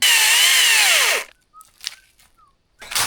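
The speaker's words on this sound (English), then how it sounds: "Little bit of oil in the chainsaw." A chainsaw whines loudly at high revs, then winds down and cuts off, leaving faint clatter and brief sounds after.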